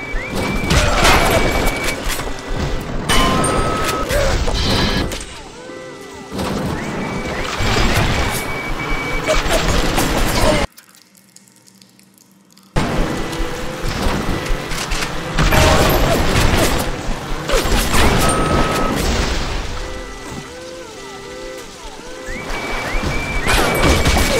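In-game alarm in BioShock, a loud repeating electronic blare layered with crashes and mechanical game noise, cutting out briefly to near silence midway before resuming at full volume.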